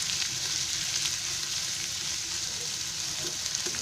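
Finely chopped onion fries in a pan, giving a dense, even hiss of sizzling oil close by, steady and unbroken throughout.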